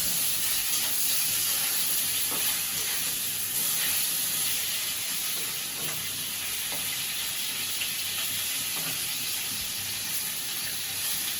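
Taki fish fries in hot oil in a village-style kitchen, a loud, steady hiss and sizzle with faint popping that carries on unbroken throughout, with no voices.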